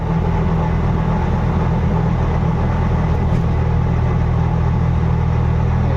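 An auto rickshaw engine runs steadily on a highway toward Ratnagiri, a loud continuous low mechanical drone with no pauses or talk.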